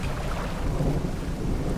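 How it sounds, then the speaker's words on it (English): Thunder from a lightning strike near a lighthouse during a storm in the fishing video game Dredge rolls as a low, continuous rumble mixed with rain, moderately quiet with no speech. "Did lightning just strike the lighthouse?"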